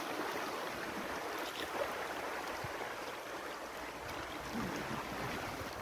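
Rushing river water during a rafting trip in Jamaica, a steady, faint wash of flowing water heard from a short distance with no talk over it.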